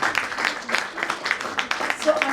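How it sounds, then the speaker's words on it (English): Crowd applause, a dense patter of many hands clapping at moderate volume with a voice or two faintly mixed in. "we need to give him a big round of applause"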